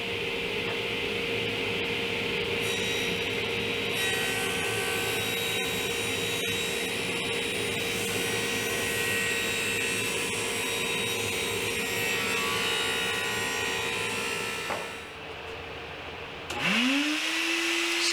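A power saw cuts 45-degree angles along the sides of wood pieces for a TV stand, its motor whining in a loud sustained drone through the cut before spinning down and stopping near the end.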